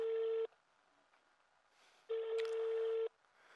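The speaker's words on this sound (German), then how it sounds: "Komm schon, geh ans Telefon." Telephone call ringing while waiting for someone to answer: two steady electronic ring tones, one short and one longer, separated by a quiet pause, clean and fairly faint.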